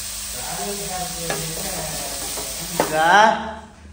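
Carrots and beans sizzle in a pan as a utensil scrapes and stirs, with a few sharp clacks and a louder burst of sizzling near the end.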